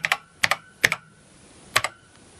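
A short command is tapped out on a computer keyboard beside a Microvitec CUB CRT monitor, about a half-dozen crisp close keystrokes in small bursts, with no talking.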